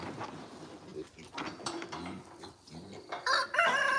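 A farm rooster crows close by, its harsh call rising near the end above a noisy outdoor background, with a person talking over part of it.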